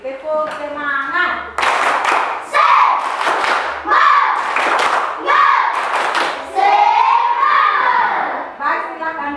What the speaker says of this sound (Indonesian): Coba berdiri, tepuk semangat.